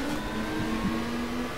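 Touring car engine from the Touring Car World mod for the GTR2 racing game, a steady droning engine note holding a fairly even pitch, loud and continuous with no voices.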